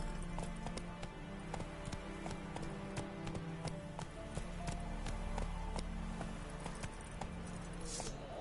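Horse hooves clip-clop in The Witcher 3 video game as a steady, even trot, with hoofbeats repeating at a regular rhythm over a constant low background rumble.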